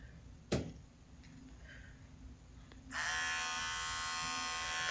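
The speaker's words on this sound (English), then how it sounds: "Another good place that I like to clip out with the clippers is the flue" Electric clippers start up and run with a steady, high buzzing hum as they trim a dog's dirty hair around the face at the lip flaps, preceded by a faint tap and quiet handling noises.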